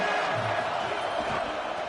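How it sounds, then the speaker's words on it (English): A stadium crowd roars in a college football video game, a broad sustained wash of cheering that stays loud and even throughout, with a commentator's voice mixed faintly in. "This crowd ready to make its presence known."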